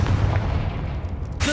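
A Confringo fire blast spell booms in Hogwarts Legacy, a heavy, rumbling low blast that sustains loudly through most of the moment, with a sharp new burst arriving at the end.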